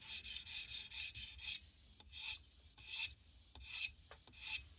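Knife blade sharpened on a Tsprof Pioneer guided sharpening system, with repeated rasping strokes of the stone along the steel, fairly close and steady, each pass separated by brief pauses.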